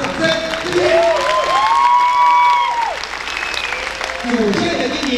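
An audience at a children's indigenous-language song and dance competition applauds a primary school troupe, sustained clapping with a loud announcer's voice speaking over it.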